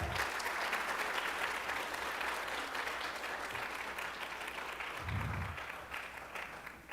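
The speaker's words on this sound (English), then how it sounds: "Let's give these guys another round of applause" Audience at a school board meeting breaks into sustained applause for honored students, dense even clapping filling the room for several seconds with a brief low thump partway through.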